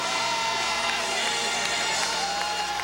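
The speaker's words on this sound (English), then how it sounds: "And it's Creighton's turn to cheer" A basketball arena crowd roars and cheers for Creighton during a 1999 conference semifinal against Southwest Missouri State, with a loud, continuous wall of cheering and shouts.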